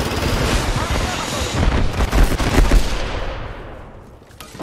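Sheila, the mounted minigun in Apex Legends, fires a long, loud, continuous stream of rapid shots that tails off near the end, with a voice speaking over the gunfire.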